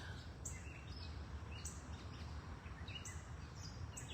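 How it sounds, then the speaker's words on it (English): Birds chirp outdoors in short, faint, repeated calls over a steady background hush of distant traffic. "The birds chirping, the sound of traffic,"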